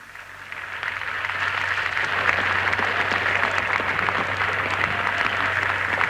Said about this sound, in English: That cheer, I think, was especially for Queen Mary, bless her gallant heart.